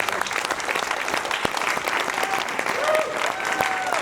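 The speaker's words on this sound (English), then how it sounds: "get a big round of applause for Florice and her staff" An audience at a county Democratic candidate forum claps steadily for about four seconds, a dense, even round of applause in a room with faint voices mixed in.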